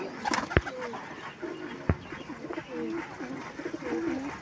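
Pigeons in a breeder loft coo in soft, low, repeated phrases, with a sharp wing flap or knock and faint background voices around them.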